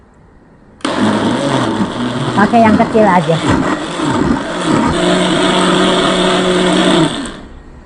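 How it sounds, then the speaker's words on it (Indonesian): An electric kitchen blender whirs loudly and steadily, blending a homemade drink for lowering blood pressure, its motor starting abruptly and running for several seconds with pitch shifts as the contents churn, while someone speaks briefly over it. "Lalu kita blender."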